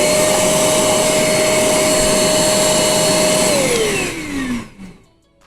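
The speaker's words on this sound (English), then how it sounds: "I'm gonna vacuum the desk first" A vacuum cleaner runs loud and close with a steady high whine while cleaning a desk, then the motor winds down and falls silent near the end.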